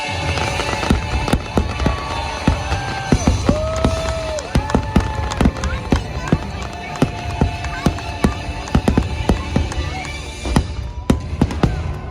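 Happily Ever After fireworks at Magic Kingdom explode continuously in sharp, cracking bangs and pops, with a murmuring crowd in the background throughout.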